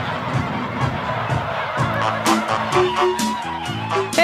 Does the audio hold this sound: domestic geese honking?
yes